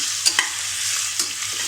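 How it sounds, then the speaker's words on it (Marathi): Onion sautéing in a pan for chicken gravy gives a soft, steady sizzle, broken by a few sharp scrapes and clicks of a spatula stirring, close by and without voices. "आता आपल्याला हा कांदा थोडा लालसर रंगावर येईपर्यंत परतून घ्यायचा आहे"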